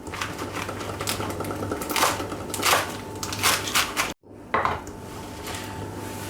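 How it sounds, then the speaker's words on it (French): A knife coarsely slicing lettuce for a Greek salad on a cutting board, with crisp crunchy cuts and firm knocks against the board at an uneven pace, close and fairly loud, broken by a moment of silence. "Et là je vais passer donc au taillage de ma salade. Alors la salade je vais juste l'émincer grossièrement."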